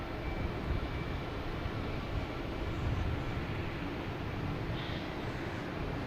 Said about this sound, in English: Delta and E-175 heading to Indianapolis